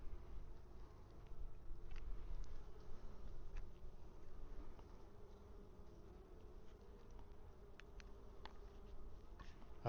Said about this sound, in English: There's gonna be a ton of bees in here, I think.